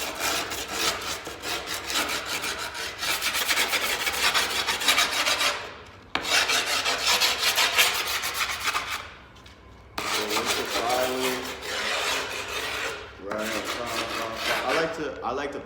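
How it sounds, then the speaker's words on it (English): A hand file rasps back and forth along the edge of skateboard grip tape in long, loud, close strokes, with brief pauses between bursts and no talking. "I like to personally go around twice with my file, so when I'm cutting out my grip tape, it comes out real smooth."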